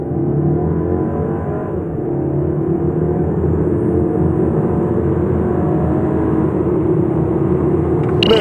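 A Volkswagen Passat 1.8 TSI with 170 horsepower accelerating hard, its engine note climbing steadily through the revs as a loud, sustained rising drone heard from inside the cabin, without any talking.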